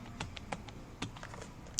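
Fingers type on a computer keyboard, a quick uneven run of soft, close key clicks at low volume with no talking.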